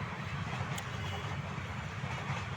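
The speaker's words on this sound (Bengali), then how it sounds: "ওই যে পিছনে একটা ট্রেন যাইতেছে" A train runs along a railway line some distance behind, a steady low rumble and rolling roar that holds evenly for a few seconds with no voices.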